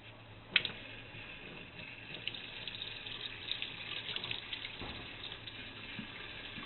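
Tap water runs steadily into a sink while equipment is rinsed out, a constant close splashing hiss with occasional clinks and knocks of items being handled.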